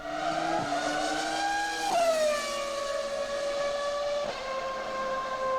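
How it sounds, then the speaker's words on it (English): High, gliding engine whine from Formula One cars with V10 engines, pitch sweeping down and shifting as cars pass and change gear, moderately loud and continuous with no talk. "Formula One cars have a new soundtrack through the introduction of V10 engines"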